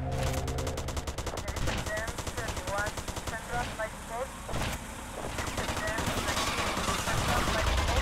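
Rapid shotgun and automatic gunfire in GTA Vice City, a dense stream of loud, closely spaced cracks running almost the whole time, with voices shouting and talking over the shooting.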